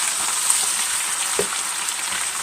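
Ground beef with sautéed onions sizzles steadily in a hot pan, a dense close frying hiss with a brief scrape as the meat is flipped, no voices.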